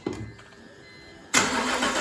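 A rebuilt BMW M54B25 2.5L inline-six cranks briefly, then catches and fires up, settling into a loud, steady run close by.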